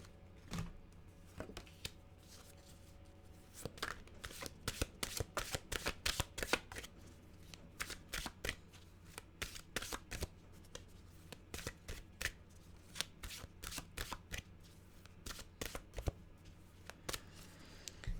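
Mantra cards shuffled by hand in a quiet room, a long run of quick crisp riffling flicks in irregular bursts, close and clear with no talking.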